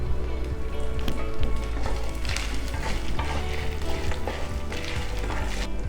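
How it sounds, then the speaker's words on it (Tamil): Cumin, tamarind, coconut, ginger and green chilli sauté in hot oil, giving a loud, dense, continuous sizzle with crackling pops and stirring scrapes close up. "சீரகம், புளி, இந்த தேங்காய், இஞ்சி, பச்சை மிளகாய் இதெல்லாம் போட்டு வதக்கிக்கலாம்."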